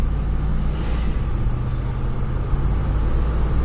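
A Ford Explorer driving on hilly roads, a steady low engine and road rumble heard from inside the cabin, continuous and fairly loud with no talking.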